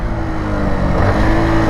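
A Yamaha R125 motorcycle engine revving close and loud, a dense buzzing drone that rises slightly as it accelerates, with no talking.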